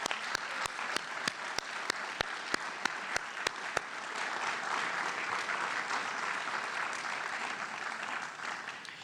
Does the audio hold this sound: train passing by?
no